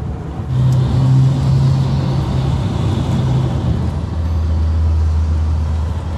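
A car drives from the airport to a hotel in Tokyo; from inside the cabin comes a steady, loud engine and road drone with a sustained low hum that shifts pitch slightly partway through.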